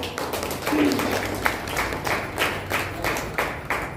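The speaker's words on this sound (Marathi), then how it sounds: "सरांसाठी आपण जोरदार टाळ्या वाजवूया" Audience applause after a lecture: a crowd claps steadily for about four seconds with uneven, rhythmic bursts at moderate loudness, and no one speaks.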